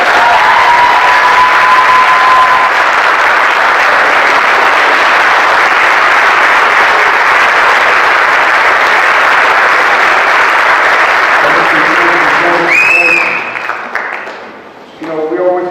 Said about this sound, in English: So I'm going to ask everyone here again to give our young kings another round of applause.